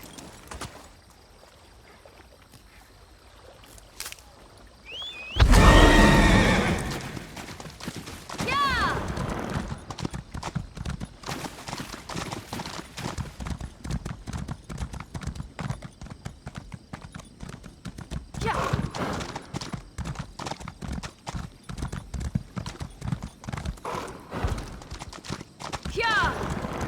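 In Elder Scrolls Online, a horse whinnies loudly once, then its hooves clip-clop in a steady, close rhythm that continues for many seconds, with faint game ambience between.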